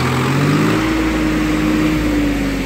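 A small Kartar tractor pulling an 11-tine cultivator runs loud and close, a steady low diesel drone with a slight rise in pitch early on, continuous with no talk.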